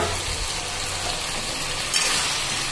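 Pumpkin and potato curry cooks in a pan, giving a steady, close hiss of frying and sizzling with light stirring throughout, the sound holding even with no talk.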